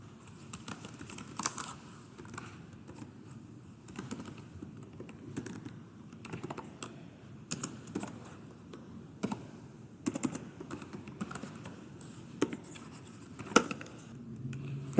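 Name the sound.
typing code on a computer keyboard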